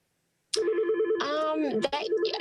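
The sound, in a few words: phone ringing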